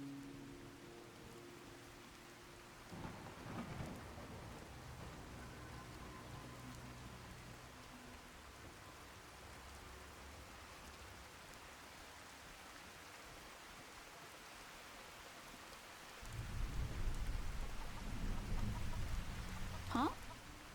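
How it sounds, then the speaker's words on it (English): Steady rain patters over an outdoor settlement in the video game Fallout 4, a constant soft hiss running throughout with a louder low rumble swelling near the end, while a voice speaks briefly. "let's get rid of the annoying rain here"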